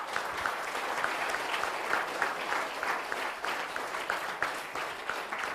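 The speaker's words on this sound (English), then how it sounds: "I want to all of you to give a big clap to my team." Steady applause from an audience at a panel discussion on innovation and startup ecosystem enablers, a continuous patter of many hands held at even strength throughout, moderately distant.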